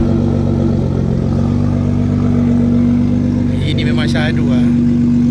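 A clean, unwashed used car with an aftermarket exhaust and 37,000 on the clock, in a showroom setting, holds a steady low engine drone that rises slightly as it revs, with someone talking over it throughout.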